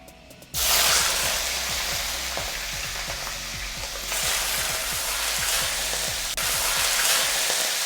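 Prawns dropped into a very hot wok for char koay teow burst into a loud, crackling sizzle, with repeated scraping strokes of stirring and a fresh surge of frying partway through.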